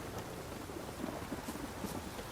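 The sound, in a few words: storm with rain and thunder in The Witcher 3 video game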